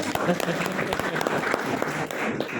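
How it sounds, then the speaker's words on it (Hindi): An audience claps steadily for a few seconds, dense applause close by with a voice briefly over it. "तालियां बजा दो।"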